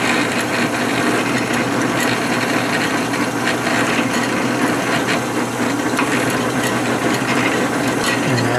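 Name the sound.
drilling metal with a drill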